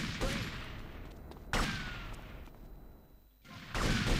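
Gunfire in the video game GTA Vice City: a few heavy, booming shots, each followed by a long, noisy decay, loud and close with no voices.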